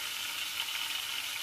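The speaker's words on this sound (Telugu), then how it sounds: "ఇప్పుడు ఈ కాగిన ఆయిల్లో మనం 2 బిర్యానీ ఆకు అయితే వేసుకుందామండి" Bay leaves sizzle in hot oil, a continuous bright crackling hiss that stays steady and close with no voices over it.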